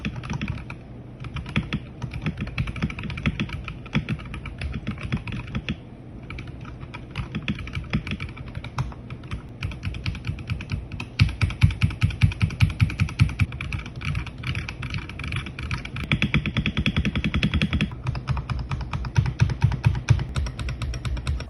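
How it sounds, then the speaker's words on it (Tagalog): Rapid, steady typing on an RK H81 gasket-mounted mechanical keyboard with a hard plastic plate, a dense stream of close, crisp keystrokes with a few brief pauses and occasional louder bursts, and no talking. "the RK H81 gasket-mounted mechanical keyboard"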